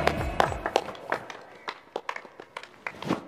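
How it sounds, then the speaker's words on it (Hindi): Scattered, uneven clapping from a school Republic Day audience for a visiting MLA, with sharp individual claps rising and falling rather than a full, steady roar, some nearby and others further off. "जोरदार तालियां होनी चाहिए।"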